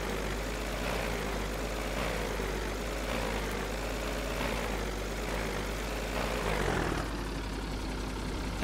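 A tractor engine runs in Farming Simulator 2013, a steady low mechanical drone that stays even throughout with a slight swell near the end, with no talking.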